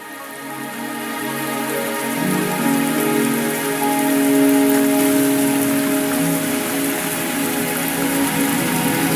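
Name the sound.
rain in the video game Wuthering Waves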